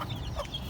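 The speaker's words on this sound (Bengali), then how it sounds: "আর লাস্ট আপডেট হচ্ছে আমাদের বাচ্চাওয়ালা মুরগিগুলো," Mother hens with chicks on a household farm: brief, soft clucking calls at close range, quiet and short, with no talk.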